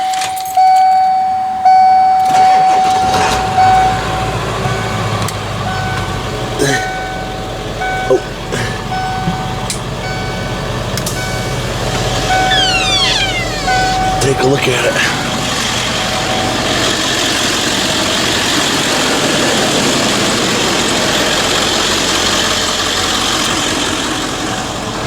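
A 2000 Ford E450 limo bus with a 7.3 diesel cranks over and settles into a loud, steady diesel idle, with keys jangling and a beeping tone early on and someone speaking briefly.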